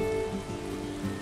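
Steady rain pattering in the Valheim survival game world, a soft continuous hiss with faint tonal background ambience, no voices.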